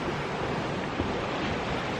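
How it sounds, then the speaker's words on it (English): Freshwater waves lap steadily along the Lake Superior shore in the Porcupine Mountains of Michigan, a continuous broad wash with soft wind noise and no voices. "You can smell the fresh water lapping up on the shore."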